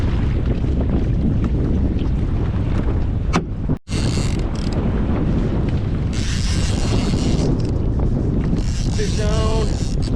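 Strong wind roars and buffets the microphone continuously while a solo kayak drifts on open water off Seward, Alaska, with a brief dropout midway and faint splashy texture near the end.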